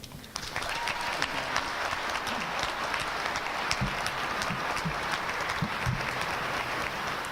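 Sustained, dense applause from a large audience at an Arkansas Century Farm induction ceremony, steady and close, welcoming Governor Sanders to the stage, with a few louder claps standing out.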